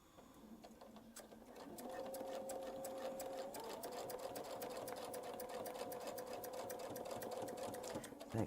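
A sewing machine runs steadily, stitching ribbon onto fabric during a quilting demonstration, with a sustained motor whir and rapid needle clatter that starts after a second and continues, close and clear.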